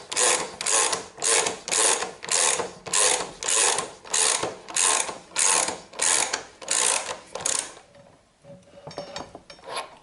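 A ratchet wrench loosening a bolt on the front wheel of a BMW R1200RT motorcycle, close, loud rhythmic clicking strokes repeating about a dozen times, then stopping into quieter faint handling sounds.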